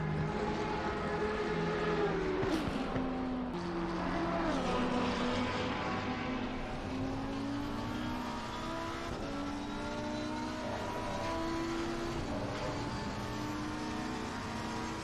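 GT race cars in Assetto Corsa Competizione drone loudly in close pack racing, engine tones rising and shifting through gear changes as cars run in the slipstream, with no talking.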